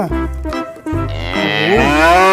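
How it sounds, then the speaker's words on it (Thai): Cattle lowing in a backyard garden setting, several long, loud, drawn-out moos one after another, close by with no talk. "มีวัวด้วย cow"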